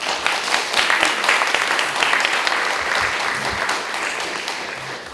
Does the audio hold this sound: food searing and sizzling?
no